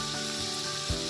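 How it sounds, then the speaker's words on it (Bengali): Pumpkin and potato pieces sizzle and fry in a pan, seasoned with salt and turmeric, a steady close crackling hiss with one soft knock near the end. "কুমড়ো আর আলু দিয়ে ভালো করে আমরা একটু কষিয়ে নিচ্ছি।"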